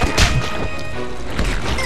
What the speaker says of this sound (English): I am armed with a cannon of mustard.